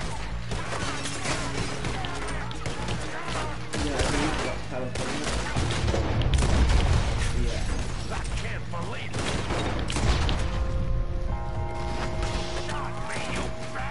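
Lancaster repeater rifle fire in Red Dead Redemption 2, a dense chaotic gunfight with repeated sharp shots, mechanical clatter and crashes, joined later by sustained tones.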